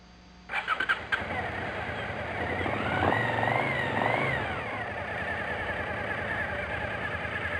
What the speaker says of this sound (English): Now start the engine and let it idle.